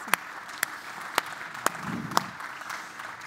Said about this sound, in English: Can we just give our panel a round of applause